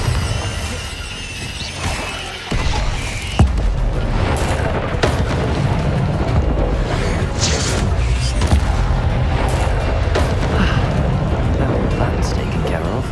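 Confringo and Bombarda spell blasts in Hogwarts Legacy: loud, close booms with shattering, crashing debris, repeated impacts over a dense, sustained wash of combat noise and game effects.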